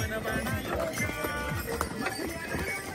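Horses clip-clop and slip on a steep downhill stretch of the Kedarnath trek in snow and rain, hoofbeats irregular and close, mixed with a faint whinny and voices talking over them.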